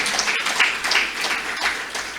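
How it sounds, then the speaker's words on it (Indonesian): Listeners at a university lecture applaud an Islamic scholar, a short burst of moderately loud clapping from a seated audience that holds briefly and thins. "Tepuk tangan untuk ulama kita ini."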